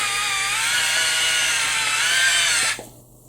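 An electric body brush for scrubbing the back hums loudly and steadily at close range with a high whining motor tone, then cuts off abruptly near the end, leaving only a low background hum.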